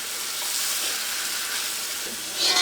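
Chicken curry with yogurt and salt is stirred in a hot pan, giving a steady hissing sizzle with soft stirring scrapes that swell briefly at the end, close by and without talk.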